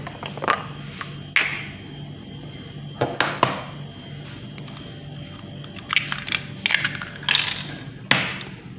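Two eggs cracked into a bowl for a savory cake: sharp taps and cracks against the rim, spread out with quiet pauses between them over a faint steady hum.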